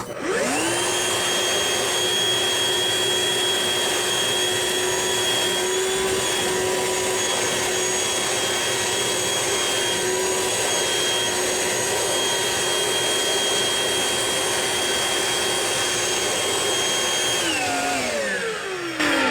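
A Ryobi RV1811 18V cordless workshop vacuum cleaner motor whines up, runs loud and steady with a high-pitched hum for a long stretch, then winds down at the end.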